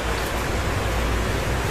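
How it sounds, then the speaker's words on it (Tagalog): Steady rain falls outdoors, a dense, even hiss of drops that holds at the same level throughout with no pauses. "Ayan na nga, inabot ng ulan."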